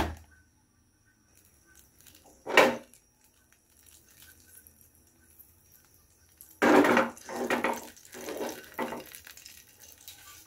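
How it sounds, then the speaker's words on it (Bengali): Water from a kitchen tap splashes over hands in two separate bursts, a short gush early on and a longer, choppier run of splashing near the end, with quiet gaps between and no talk. "হাতটা ধুয়ে নি একটু।"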